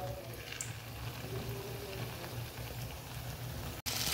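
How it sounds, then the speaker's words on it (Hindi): Koftas deep-fry in hot oil in a kadhai over a high flame, giving a steady, soft, continuous sizzle and bubbling with no talk. Near the end there is a brief click. "अब हम इसमें कोफ्ते फ्राई करेंगे"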